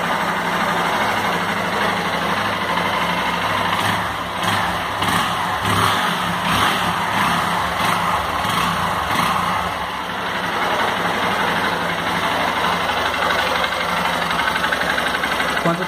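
A Honda Fan 150 motorcycle from 2014 with its original exhaust pipe idles steadily and loudly nearby, a continuous engine rumble with slight rhythmic pulsing throughout.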